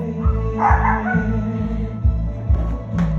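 A dog outside barks several times in a steady rhythm, loud and fairly close, over a low droning background.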